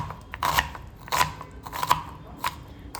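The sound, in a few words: cutting onions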